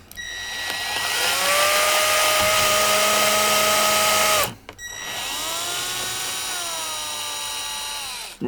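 A power drill drives screws into a van's ceiling panels in long steady bursts with rising and falling motor pitch, loud and close, pausing briefly before a second run.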